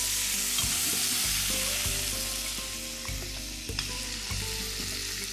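A chickpea dish with onion, garlic and greens sizzles and fries steadily in a pan, a continuous close crackle with occasional stirring clinks and no voices.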